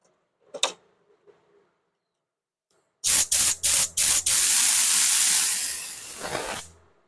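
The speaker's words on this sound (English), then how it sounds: "So now we'll spray this through it." A few short aerosol spray bursts, then one long hissing spray lasting several seconds, sprayed through a small orifice on a 1985 Honda V65 Magna motorcycle part, close and loud, after a faint click.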